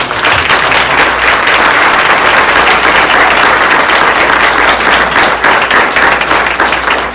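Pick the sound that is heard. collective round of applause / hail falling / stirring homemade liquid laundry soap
collective round of applause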